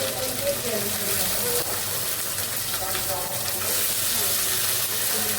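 Vegetables frying in a pan in a home kitchen, a dense, even sizzle filling the whole stretch with bubbling texture, close and steady without pause.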